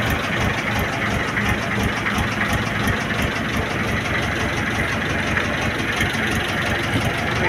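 A fishing boat engine drones loudly and steadily, close up, with a rough, knocking rumble and no pauses.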